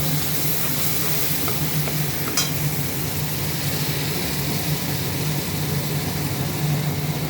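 Onion paste and black cumin (kalo jeera) frying in a pan of hot oil for a pumpkin, potato and prawn curry; a steady, loud, dense sizzle with faint clinks, unbroken throughout.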